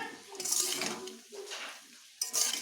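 Bottle gourd greens are stirred in a pan with a spatula: a few scraping, rustling strokes with soft clinks against the metal, close by, separated by short quiet gaps.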